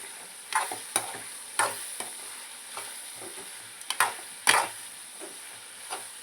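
A ladle stirs and mashes tomatoes in a pan while making bitter gourd kuzhambu. Irregular soft scrapes and sharp clacks of the ladle sound against a faint sizzle, with no talking.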